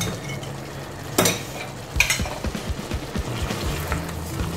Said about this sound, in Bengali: সসটার সাথে একটু নেড়ে নেব